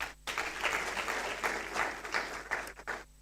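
Crowd of students and stakeholders applauding at a school exhibition, loud, sustained clapping with uneven surges that starts abruptly and tails off at the end.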